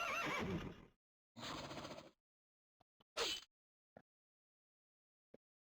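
A horse in The Legend of Dragoon video game gives two loud whinnies, followed by a sharper cry and a few scattered faint clip-clops and clicks against silence.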